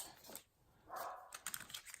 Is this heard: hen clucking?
no